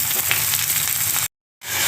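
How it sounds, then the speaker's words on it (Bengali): Chopped tomato tipped into a pan of hot oil with ginger-garlic paste, cooking for a Bengali fish curry, gives a loud, steady sizzle and hiss that cuts out abruptly near the end before returning. "টমেটো কুচি দিয়ে দিচ্ছি"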